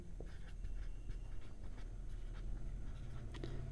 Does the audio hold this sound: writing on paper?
yes